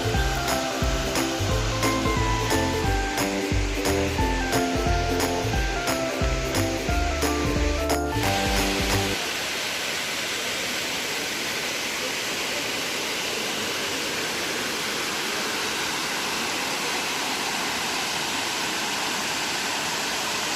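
Tirathgarh Waterfall on the Munga Bahar river roars as a steady broadband rush, with music over the first half before the water noise plays alone.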